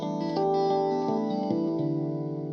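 Chiming guitar harmonics rung out one after another in an ascending then descending run, bright bell-like tones overlapping with a shimmering effects-laden sustain and reverb, played alone without talk.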